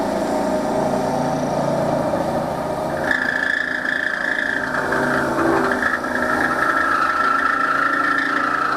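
Wood lathe spinning a wooden cup as wax is rubbed onto it, a steady motor whir with a brighter, sustained rubbing and friction tone rising partway through.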